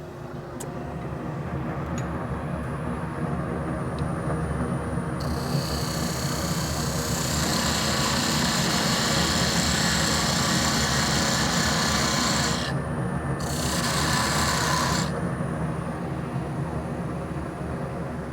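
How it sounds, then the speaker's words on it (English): Wood lathe parting off a cast Alumilite resin faux pinecone box, a loud continuous scraping and rasping of the tool against the spinning piece, steady throughout with bright hissing bursts in the middle and near the end. "I'm gonna part this thing completely off because it's useless to me."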